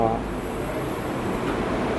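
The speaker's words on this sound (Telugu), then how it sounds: "సో మాటలోనే ట్రైన్ వచ్చేసింది. షటిల్ ట్రైన్ వస్తుంది." A shuttle train on Malaysia's jungle railway pulls into a station with a steady, continuous rumble and broadband rail noise, loud and close throughout, with a brief high squeal at the start.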